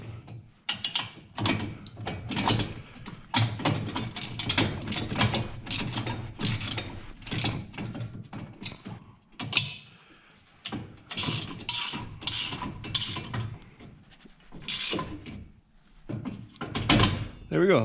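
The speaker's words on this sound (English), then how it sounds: "I'll come back in with my wrenches and tighten these down." Wrenches tighten bolts on a trailer ball hitch: clustered metallic ratcheting clicks in irregular bursts, close by, with knocks and clanks between them and a voice talking in places.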